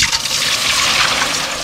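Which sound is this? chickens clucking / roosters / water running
water running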